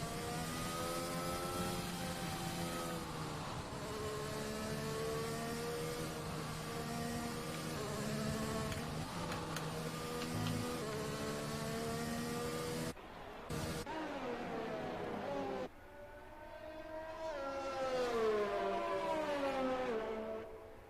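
Race cars in a sim racing Japan GP event pull out onto the track, a steady whining engine drone with rising and falling pitch, loud and continuous, briefly cutting out before climbing again.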